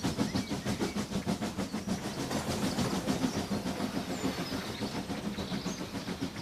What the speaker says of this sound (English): The engine chuffs back down the line to the other end of the carriages.